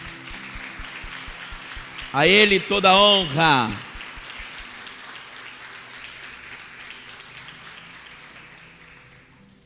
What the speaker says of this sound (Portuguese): Vamos dar ao Senhor uma linda salva de palmas